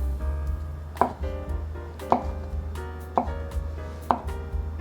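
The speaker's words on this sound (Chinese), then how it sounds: "接着给它切成小丁" A knife dices fresh shiitake mushrooms on a board, four crisp, evenly spaced chops about a second apart, close and clear with no voices.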